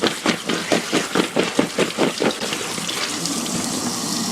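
Jalapeño peppers are washed under a running kitchen tap. Water splashes in a quick rhythmic series as the peppers are turned beneath the stream, then settles into a steady, even flow. No one speaks.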